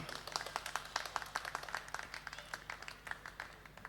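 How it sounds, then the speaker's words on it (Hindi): Scattered audience clapping at a Hindi speaking event, a small group's distinct, fairly quick hand claps at moderate distance, continuing steadily without talk over them. "इधर भी तालियां बज रही है"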